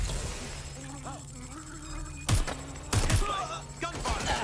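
Bursts of video game gunfire, a couple of sharp volleys over background music and sound effects, with some voices in the mix.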